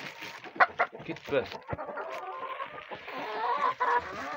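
Hens in a winter coop cluck and squawk in short repeated bursts close by, while a person speaks intermittently over them.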